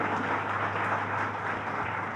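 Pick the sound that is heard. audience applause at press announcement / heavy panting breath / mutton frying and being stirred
audience applause at press announcement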